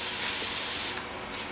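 Compressed air rushes out of an Everlast Power Plasma50 plasma cutter in a loud, steady hiss. It drops off suddenly after about a second, and a softer hiss carries on afterwards.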